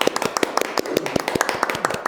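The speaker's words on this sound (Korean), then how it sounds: "박수로 환영하겠습니다" A book-talk audience clapping to welcome a science speaker, a scattered run of individual hand claps at fairly even spacing, close and crisp rather than a dense roar.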